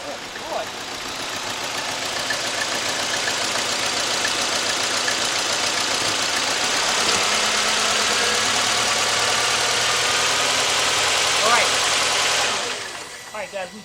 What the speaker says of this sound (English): we definitely got a Misfire